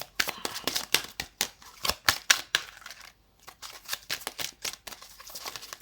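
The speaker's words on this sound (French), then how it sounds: "battre les cartes, c'est un petit peu difficile encore" Tarot cards are shuffled by hand in rapid, crisp riffles and slaps, close and fairly loud, with a brief pause midway before the shuffling resumes.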